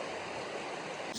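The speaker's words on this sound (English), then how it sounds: "Look at that flowing river!" A rushing river flows continuously near the Pacific Crest Trail, close to Kennedy Meadows at the edge of the Sierras, producing a dense, even roar of moving water with no breaks.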